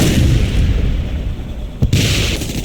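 A frag grenade explodes in the video game Ghost Recon: Future Soldier, a loud, dense roar of blast and rumble that fills the moment, broken by a brief sharp crack near the end.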